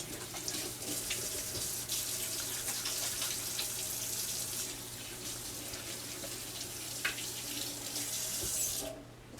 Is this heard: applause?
no